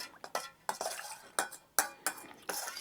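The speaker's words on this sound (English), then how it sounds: "Just give it a little stir." A spoon stirs banana syrup with sugar in a pot, scraping and clinking against the sides in several short, separate strokes, close and fairly clear with no talk.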